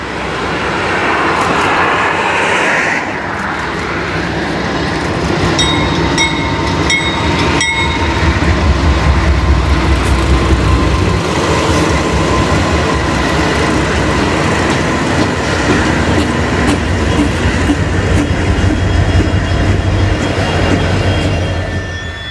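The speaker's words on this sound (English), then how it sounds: "looks like we might have another train headed our way up here" A freight train rumbles past close by at the Tehachapi Loop in a long, loud, steady roar, with a few brief tonal blasts early on.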